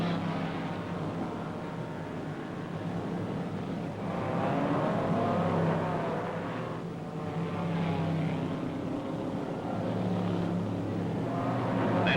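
Race cars roaring around the 1957 Indianapolis 500, a steady loud engine drone with rising swells as cars pass, no voices over it.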